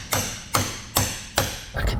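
Four sharp metallic hammer blows, roughly evenly spaced, land on a steering rack bolt of a Land Cruiser during a rack bush repair, close and loud with a faint scrape at the end.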